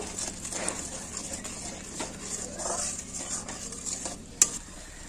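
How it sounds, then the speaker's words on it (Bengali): Fish stirred in hot oil in a pan with salt and turmeric, a soft ongoing sizzle with scraping stir strokes and one sharp utensil clink near the end. "স্বাদ অনুযায়ী লবণ দিয়ে দেবো, হলুদ গুঁড়ো, নাড়াচাড়া করে নেব।"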